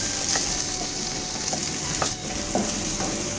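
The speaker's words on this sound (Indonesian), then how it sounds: "Lalu panaskan sedikit minyak lagi dan tumis bawang putih jahe." Garlic and ginger sizzle and crackle as they are stir-fried in hot oil for a cabbage dish, a steady close frying hiss broken by soft spatula scrapes and stirs.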